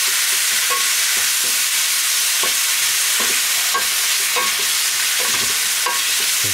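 Chili powder and cane sugar sizzle steadily in hot oil, loud and close. A utensil stirs the pan in repeated knocks and scrapes at an irregular rhythm. No voices.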